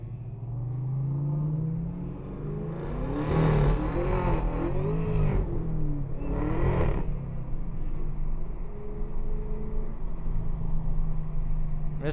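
A Chevrolet Camaro ZL1 1LE at a raceway revs hard while spinning its tires to warm them, with a deep engine rumble swelling into several loud bursts and a harsh tire-spin roar over a steady idle.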